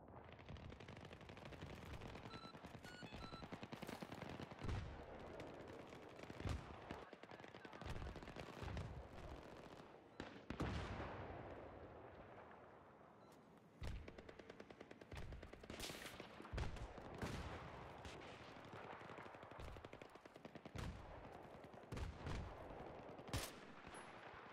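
Rapid machine-gun bursts and single gunshots from a Battlefield 3 multiplayer match crackle throughout, dense volleys with brief lulls, loud and close alongside distant firing.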